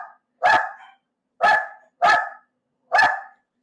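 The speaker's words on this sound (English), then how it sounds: "while my dogs are barking at the delivery guy" Dogs barking at a delivery person, four sharp, loud barks close by, spaced about a second apart with silence between them.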